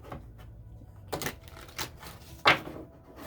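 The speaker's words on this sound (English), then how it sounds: "One more little flip shuffle" A few soft, quick papery riffles of tarot cards being flip shuffled up close, spaced apart, with one sharper snap near the end.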